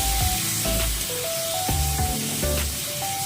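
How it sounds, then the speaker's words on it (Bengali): Ginger-garlic paste with turmeric and chilli is stirred in a hot pan, giving a steady sizzle and hiss with scraping strokes of the spoon and faint clinks. "এবার আমি একটু নাড়াচাড়া করে নেব।"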